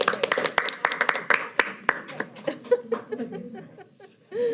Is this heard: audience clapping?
yes